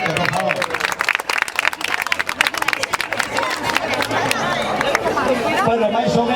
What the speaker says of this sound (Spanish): Un aplauso para Roberto, por favor.